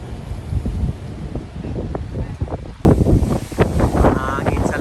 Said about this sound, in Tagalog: Hangin sa labas mga kadats ko.